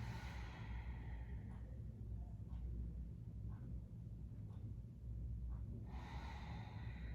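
Slow, deep breaths drawn into the bottom of the rib cage during a restorative movement class: soft, airy inhales and exhales repeat every second or so over a steady low room hum.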